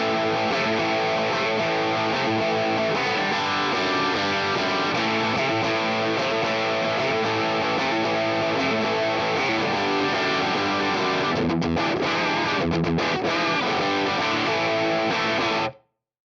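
A distorted electric guitar on the bridge humbucker, driven by a FET boost into an amp, plays continuously with a thick, saturated drive, sustained chords and notes ringing loudly, with a couple of brief gaps near the end.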